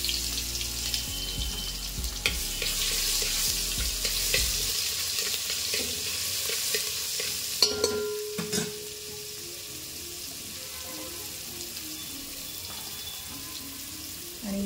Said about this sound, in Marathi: आता तेल गरम झालंय आपलं, थोडंसं जिरा घालायचा, त्याच्यानंतर लसूण